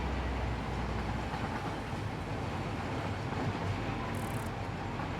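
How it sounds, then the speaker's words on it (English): A train runs along the line in the game Satisfactory, a steady, fairly loud rumble with faint clattering and a brief hiss near the end, with no talk. "this is my block measurement train"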